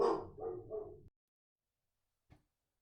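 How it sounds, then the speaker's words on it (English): A dog barks at garbage collectors outside a home: a short burst of three quick, close barks, then silence and one faint, brief yip a moment later. "The dog started barking because the trash people were here."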